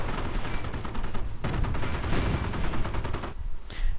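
Sustained video-game gunfire as Sherman tanks open up on a StuG 42 in a WWII strategy battle, a dense loud barrage of rapid shots and blasts with a brief lull before a final burst.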